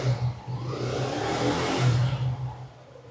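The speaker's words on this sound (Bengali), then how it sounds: "ইঞ্জিন সাউন্ড দেখতে পাচ্ছেন একদম ফ্রেশ ইঞ্জিন সাউন্ড" A nearby used motorcycle engine with 40,000 km on it idles with a steady low throb, then revs up briefly before settling back down; no talking.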